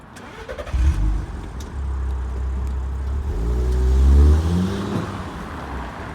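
A car engine turns over and catches, idles briefly, then revs up as the vehicle pulls away, loud and close.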